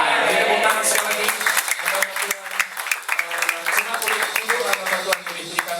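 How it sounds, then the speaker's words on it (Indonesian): A church congregation clapping at an ordination service, steady, full applause throughout with voices mixed in under the clapping. "Tepuk tangan sekali lagi"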